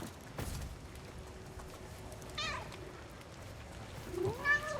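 Cat meows in the game No Rest for the Wicked: a short meow near the middle and a louder rising meow near the end, over a faint steady game ambience with a low thump at the start.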